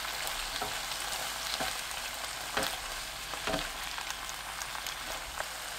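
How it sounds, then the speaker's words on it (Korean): Pork with onion and celery stir-frying in a pan: a steady, dense sizzle with scattered crackles and a few louder stirring scrapes, close and continuous, with no voices. "양파, 샐러리 넣고 1분 볶습니다."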